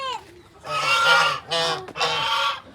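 Loud, nasal honking calls from quarrelling ducks, a few harsh bursts in quick succession, close by.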